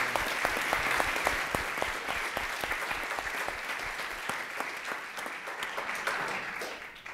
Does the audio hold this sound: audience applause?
yes